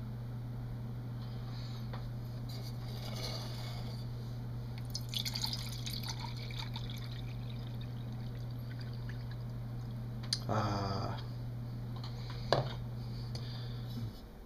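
About a pint of water poured into the cooking pot of a HYKER camping stove on a tabletop, a brief splashing pour over a steady low electrical hum that runs throughout.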